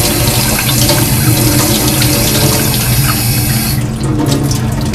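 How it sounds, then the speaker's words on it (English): Cold tap water rinsing soap off washed field sampling equipment, a loud steady rush of running water that flows continuously and changes character near the end, with no talking. "we rinse off the soap with cold"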